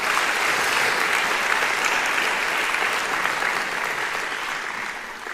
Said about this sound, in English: we can applaud them in absentia